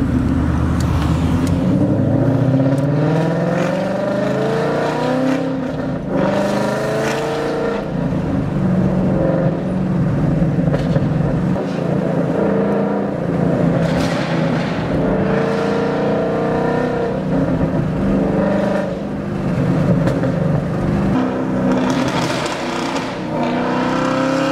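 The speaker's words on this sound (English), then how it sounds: "give you guys some in-car exhaust sound" From inside a Ford Mustang, a deep exhaust drones and rises steadily as the engine accelerates through gears, with a constant loud rumble throughout.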